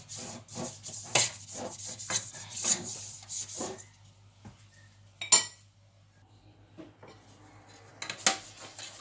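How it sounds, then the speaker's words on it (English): A pastry brush rubs oil around a metal sponge-cake pan in a series of short scrapes and soft clinks, close and fairly quiet, with pauses between strokes and a low steady hum underneath. "You use your brush to make sure it touches everywhere in the pan"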